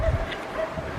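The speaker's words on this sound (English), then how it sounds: "All you can hear is dogs barking." Dogs barking in the distance from a hillside trail above the lakes at Glendalough, with several short barks carrying over soft outdoor ambience.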